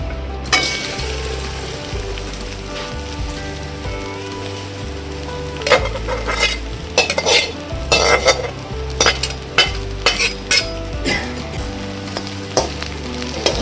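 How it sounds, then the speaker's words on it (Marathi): Sliced okra roasting in about a spoonful of oil in a kadai over high heat, with a steady loud sizzle and repeated scraping, clattering stirs of a spatula against the pan. "आता आपण एक कढईमध्ये थोडंसं 1 चमचा तेल टाकले, त्यात भाजून घेऊया."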